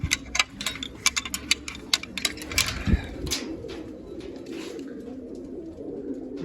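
Low, soft cooing from pigeons rolls on continuously nearby, with light clicks and taps scattered through the first few seconds.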